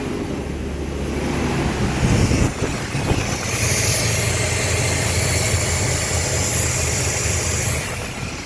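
An old Chevy engine idles steadily with a low rumble, heard through heavy wind noise and a bit of background clatter.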